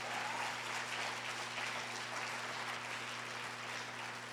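Church congregation applauding during a Spanish-language sermon on faith, a steady dense wash of many hands clapping for several seconds, fairly distant with room reverberation and no voice over it.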